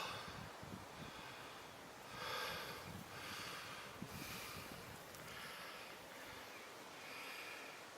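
River water rushes steadily where the River Dore meets the River Monnow, a broad, soft hiss of flow with gentle surges and light wind on the microphone.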